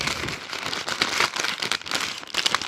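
The plastic package of a Merejka embroidery kit is opened up close, giving a continuous crisp crinkling and rustling throughout, with no voices.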